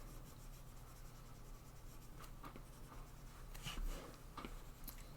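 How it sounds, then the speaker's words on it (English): A stylus erases on a tablet surface in Procreate with faint, soft scratching and rubbing strokes in short irregular bursts, very quiet and close, against a low background hum. "what I'm going to do next is erase away the little bits"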